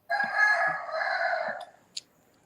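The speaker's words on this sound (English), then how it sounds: "I think that's a rooster." A rooster crows once, a clear drawn-out call lasting over a second that trails off, followed by a brief faint sound; no talking.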